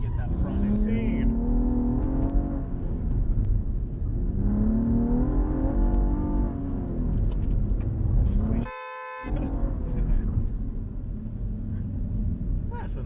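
A Cadillac ATS-V races around a track, its engine revving in rising, whining sweeps with a steady rumble close up, a brief dropout midway, and the drive continuing at full throttle.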